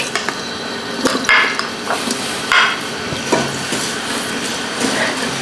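About 150 grams of sliced onions sizzle in hot oil in a pan, with a steady frying hiss and occasional sharp clinks and scrapes of stirring, close and fairly loud.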